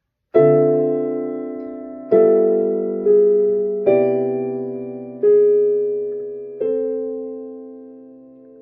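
Six piano chords are struck one after another, each ringing out and slowly decaying, with rich jazzy voicings shifting between them, played alone.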